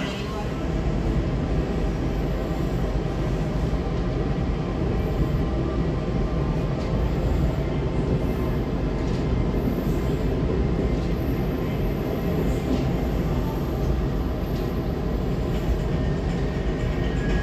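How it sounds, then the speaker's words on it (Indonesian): The Jayakarta Premium passenger train rumbles steadily into Jombang station for a long stretch, a dense continuous roar of wheels and engine with faint announcements beneath. "kereta api Jayakarta Premium telah tiba di jalur nomor 2"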